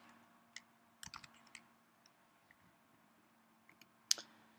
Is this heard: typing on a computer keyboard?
yes